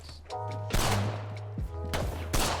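Several sharp gunshots crack out in Apex Legends as teammates fire at the ground, loud and close. Bright electronic game tones hum underneath the shots.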